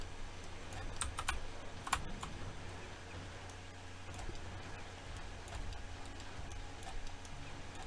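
Computer keys clatter in quick, irregular bursts of soft clicks, faint and close, with a low background hum and no talking.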